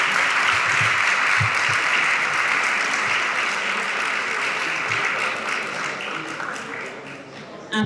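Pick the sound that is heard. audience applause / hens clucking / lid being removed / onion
audience applause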